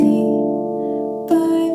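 A handpan plays a slow, meditative pattern, its metallic notes ringing and sustaining close by before a fresh strike near the end lifts the tone, with no talking.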